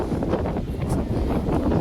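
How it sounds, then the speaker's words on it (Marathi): Strong wind blowing through a Konkan village on a stormy evening after rain, a continuous buffeting roar with gusty surges hitting the microphone, steady and moderately loud with no talking. "हे बघा वारा सुटलेला आहे खूप वारा देखील सुटलेला आहे"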